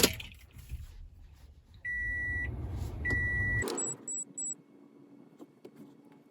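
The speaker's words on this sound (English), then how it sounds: "And I'm gonna go ahead and turn the key on." A Toyota Tundra's ignition is switched on, followed by an engine rumble with two long electronic chime tones, then the engine cuts out and three short beeps sound close inside the cab.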